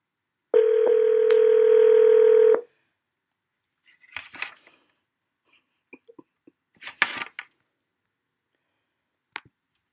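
Telephone dial tone rings out steadily for about two seconds and then stops, followed by scattered faint clicks and rustles on the line.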